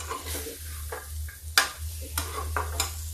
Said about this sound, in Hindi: ये देखिए मूंगफली और साबुदाना, ये और इसको थोड़ा सा इसी में ऐसे चलाते हैं